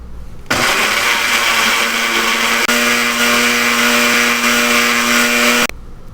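A blender purees cauliflower with heavy cream into a smooth mash. The motor roars loud and steady for about five seconds with a constant high whine, then cuts off abruptly.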